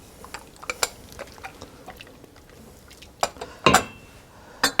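A utensil stirs yams, asparagus and corn in a cooking pot, making scattered light clinks and scrapes against the metal that build to a few louder knocks near the end.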